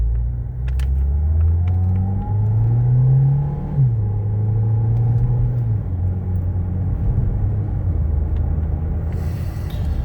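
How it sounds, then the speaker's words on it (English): A Ford Fiesta pulls away up a steep hill from inside the cabin, its engine droning steadily with a rising pitch that climbs through the revs, dips at a gear change and holds a low, even hum afterward. "Let's take off on this steep hill here."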